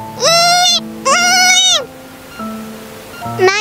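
A person imitates a lamb's bleat at a cultural feast performance, giving two loud, wavering, drawn-out bleats in a row and then a softer start of another call.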